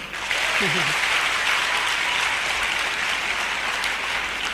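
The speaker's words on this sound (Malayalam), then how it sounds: "നിങ്ങൾ കൈയടിച്ചത് എനിക്ക് വേണ്ടിയല്ല," An indoor audience at a motivational talk claps together in sustained, dense applause close by, with a brief voice cutting in near the start.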